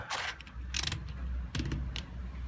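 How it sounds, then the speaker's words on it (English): The drain filter of a Bosch top-loading washing machine is pushed back into its housing and screwed in, producing a few close plastic clicks and ratcheting scrapes in short bursts. "for the meantime I'll just push it back in, screw it up"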